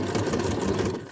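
A sewing machine sews scrap paper ruffles in a short, close, steady mechanical whir that fades slightly at the end.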